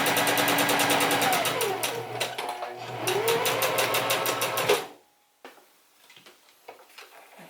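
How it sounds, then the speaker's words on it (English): Sewing machine back tacking while setting a woman's fly zipper, a loud close rapid stitching run with a brief pause and direction change midway, then stopping into quiet handling sounds. "I'm going to back tack."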